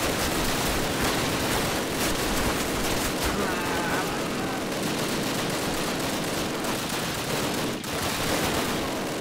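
An MG42 machine gun fires in Call of Duty, a dense, continuous rattle of rapid gunfire mixed with other battlefield shots, with voices shouting underneath.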